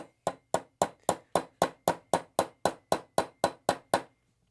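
A hammer drives a 1/16 roll pin punch against a roll pin in a Ruger-57 pistol slide, giving about fifteen sharp metallic taps in an even, quick rhythm. The strikes are close, crisp and isolated, and they stop abruptly.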